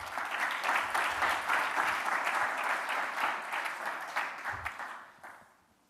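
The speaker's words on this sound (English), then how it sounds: "A big round of applause to all of you." An audience at a fintech demo day event applauds in a sustained, fairly distant burst of clapping that gradually fades out to silence.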